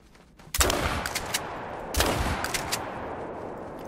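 Two close, loud 16-gauge shotgun blasts fired while hunting pheasants in theHunter: Call of the Wild, each a sharp report with a rolling tail, followed by faint clicks and smaller pops.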